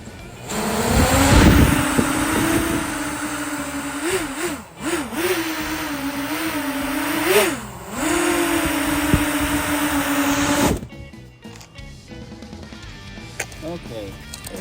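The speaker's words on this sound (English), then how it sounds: "Okay, it hovers, so I'm going to take it for a spin, FPV." An FPV drone with 3D-printed PLA toroidal propellers hovers, its motors giving a steady whine that dips and rises in pitch as the throttle shifts, then cutting off after about eleven seconds, leaving quieter background noise.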